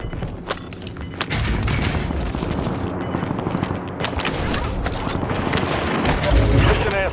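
Warzone gameplay with a precision airstrike: dense rumbling explosions and rapid gunfire crackle through a loud battle mix, with a voice speaking over it.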